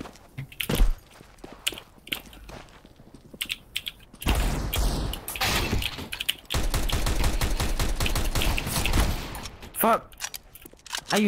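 Counter-Strike: Global Offensive gunfire, with bursts of rapid automatic shots and a long sustained spray in the middle, mixed with game noise while players talk over it.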